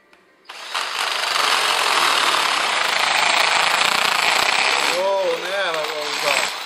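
A loud, steady grinding roar of a power drill boring into concrete to install a motorcycle ground anchor, starting abruptly and running continuously, with a voice briefly over it near the end.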